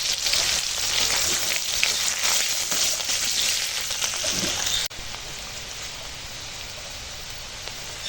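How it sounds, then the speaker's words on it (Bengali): Onion sizzles loudly in hot mustard oil already used for frying fish, with panch phoron and dried red chilies, at close range, a dense crackling hiss that drops to a softer, steady frying sound partway through. "ওই মাছ ভাজার তেলেই দেবো পাঁচ ফোড়ন আর শুকনো লঙ্কা এখন পেঁয়াজটা দিয়ে দেবো"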